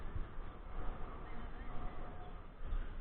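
Geese or similar waterfowl honking at a fishing spot, fairly faint and distant, a few scattered calls over steady outdoor background noise with no talk.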